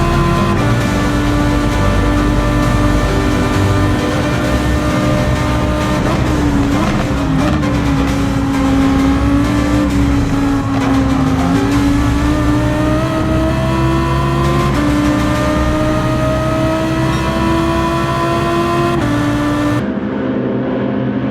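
A Dodge Viper race car in a racing video game screams along at high, sustained revs, its loud engine tone swelling and dipping slightly as it runs flat out for about twenty seconds with no talking.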